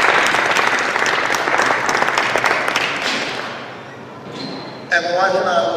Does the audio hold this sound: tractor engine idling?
no